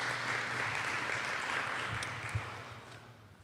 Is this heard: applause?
yes